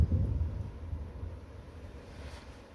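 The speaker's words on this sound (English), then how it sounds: "The wind is a little disrespectful." Wind gusts buffet the microphone in a low, rumbling roar that is strongest at the start and then eases to a steadier, softer blow across the rest of the short stretch.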